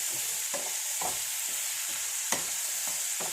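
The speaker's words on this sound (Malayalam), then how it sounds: "കിഴങ്ങ് കിഴങ്ങ നല്ലപോലെ മിക്സ് ചെയ്യുക" Potato being mixed in a cooking pan, with a spoon scraping and stirring in repeated strokes over a steady sizzling fry, close and moderately loud, no voices.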